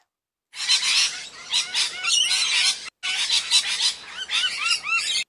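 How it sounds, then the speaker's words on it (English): Parrot squawking loudly and close, a dense series of harsh shrieks and whistled calls in two bursts separated by a brief break. "P for parrot"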